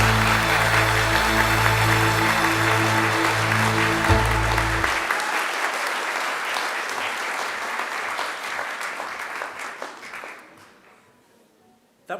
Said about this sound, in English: If you can join me again in a roaring round of applause for her.